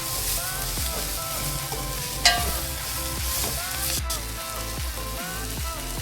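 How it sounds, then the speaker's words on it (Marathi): Tomatoes sizzle in hot oil in a pan as they are sautéed, a dense close crackle with rhythmic spatula stirs and a sharp clink partway through; no voices. "टोमॅटो याच्यामध्ये फोडून घेते मी, तेलामध्ये वाफून घेते"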